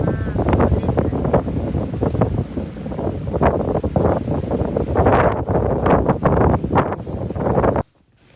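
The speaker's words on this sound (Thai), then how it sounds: "ฟังเสียงลมมาเยอะแล้วนะคะ เสียงดังมากค่ะ" Strong sea wind buffets the microphone in loud, rough gusts for several seconds by the shore, then cuts off abruptly near the end.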